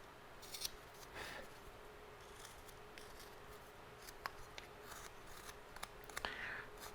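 Small knife chattering against wood while carving a letter opener: faint, sparse scraping ticks and brief rasps over a quiet hiss, no talk.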